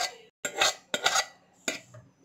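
A metal cooking pot set down on a stove for tempering in an Indian kitchen, a few sharp clanks and scrapes in quick separate bursts with brief silences between.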